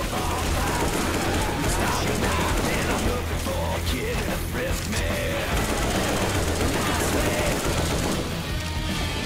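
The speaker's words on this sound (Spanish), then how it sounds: "Fuegos artificiales." Fireworks burst during the Dark Carnival campaign of the video game Left 4 Dead 2, a loud, dense run of rapid crackling pops and booms over steady game noise, with players talking underneath.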